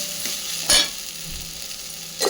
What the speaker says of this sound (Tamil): நல்லா வெங்காயம் வதங்கி வந்ததுக்கப்புறம் இஞ்சி பூண்டு பேஸ்ட்டு போட்டு அதனோட பச்சை வாசனைலாம் போகிற அளவுக்கு